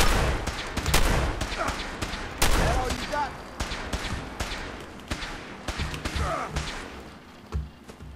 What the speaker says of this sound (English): Who's shooting lasers at us?